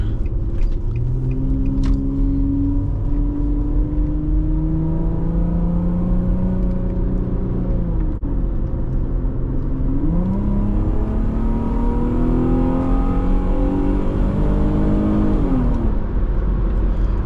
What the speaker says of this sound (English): I love the way this exhaust sounds here.